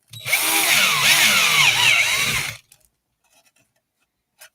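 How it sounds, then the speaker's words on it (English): A 12-volt Black & Decker cordless drill whirs loudly for about two seconds, its pitch wavering as it runs, then cuts off into near silence with a faint click afterward. "you're going to hear the unbridled power of a 12-volt Black & Decker cordless drill"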